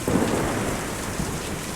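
Rain and thunder in the video game Kentucky Route Zero: steady rain hiss with a low rumble of thunder, brief and moderately loud, no voices.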